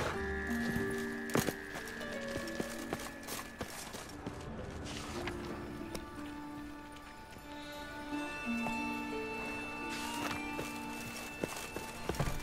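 Horse hooves clip-clopping in the video game The Witcher 3, a steady rhythmic trot at moderate distance under music and ambient game sound.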